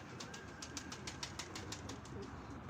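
Pigeon flapping its wings as it takes flight from a rooftop, a quick run of rhythmic wingbeats heard faintly over a low background hum.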